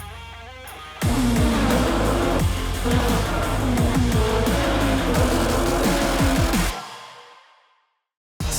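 IndyCar race cars roaring past at Watkins Glen, loud engines surging and downshifting in overlapping waves for several seconds before fading away into silence, with a brief burst returning at the very end.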